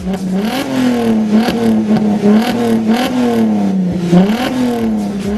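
A sports car engine roars loudly with its exhaust valves open, an open, rumbling exhaust revving slightly up and down with crackling bursts and no voices.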